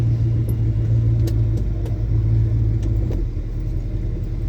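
A Mach 1 car driven by a learner approaches with a steady, loud engine rumble and low drone that eases slightly near the end, with no talking.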